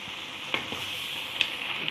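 Spinach sizzles softly in a pan as it is stirred and its water cooks off, a steady hiss marked by a few light scrapes and clinks of a spoon, with no talking.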